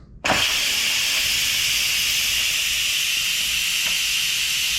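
Steady, loud broadband hiss of steam venting from a pressure cooker release valve after slow release, starting abruptly and continuing evenly without pause.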